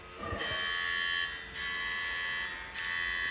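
A Roblox road-trip game alarm rings out loud and steady, a sustained electronic tone that cuts out and restarts in three repeated bursts with no talk over it.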